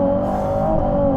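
Ferrari 296 GTB with a turbocharged hybrid engine on the Nürburgring, a loud steady engine drone holding a constant pitch from inside the car throughout.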